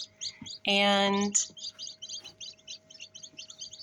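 Newly hatched baby chicks peep in an incubator with rapid, high, repeated chirps that carry on steadily, while a voice briefly speaks over them near the start.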